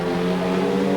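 A Porsche 968 race car on a track in a one-hour production endurance race, a brief loud steady engine drone at high revs with a strong buzzing tone.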